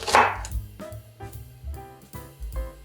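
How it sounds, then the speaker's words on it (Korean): A knife slices Cheongyang chili peppers thinly into rounds on a cutting board, giving about five crisp, evenly spaced cuts roughly every half second over a soft tonal background. "멸치를 볶기 전에 청양고추 3개만 딱 썰어줄 거예요. 얇게 동글동글 동글하게 썰어주세요."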